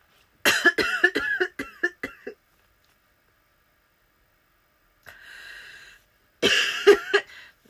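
A burst of several sharp coughs in quick succession, then a pause, a breathy rasp, and another short fit of coughing close by.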